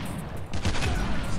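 Rapid automatic gunfire in Call of Duty Mobile on a Halloween map, a dense close burst of shots swelling midway, with a voice speaking over it.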